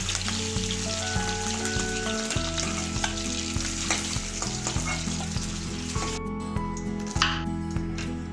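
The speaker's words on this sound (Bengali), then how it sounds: "মাশরুমগুলোকে একটু উল্টে পাল্টে" Mushrooms sizzle and crackle steadily in hot oil with a little turmeric and salt as they are turned, with repeated close scraping strokes of a spatula against the pan over a constant background hum.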